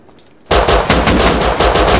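Rapid full-auto AK rifle fire in the video game Rust erupts suddenly after a quiet moment, a loud, close, continuous burst of evenly spaced shots.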